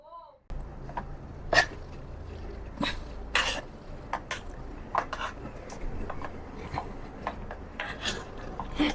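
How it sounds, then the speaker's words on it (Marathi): Boiled vegetables for pav bhaji being mashed in an opened pressure cooker, with a steady rasping scrape and scattered sharp knocks of the masher against the metal, close and continuous. "कुकर आपण आता खोलून हे मॅश करून घेतोय सगळ्या भाज्या"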